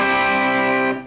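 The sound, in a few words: distorted electric guitar chord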